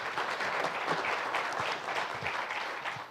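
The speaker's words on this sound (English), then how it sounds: "Round of applause for Aubrey." Steady, fairly faint clapping from a conference audience after a talk, with no voices over it.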